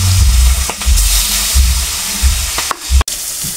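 Eggplant fries in a pan in a home kitchen: a loud, close, continuous sizzle broken by a few low knocks and clatters, with no voices.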